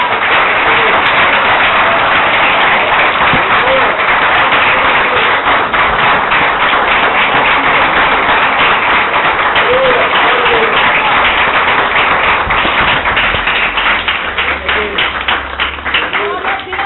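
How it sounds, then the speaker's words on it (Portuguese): A church congregation claps together in worship, a loud, dense and sustained rattle of many hands that runs on steadily and is mixed with voices. "Vamos aplaudir o Senhor."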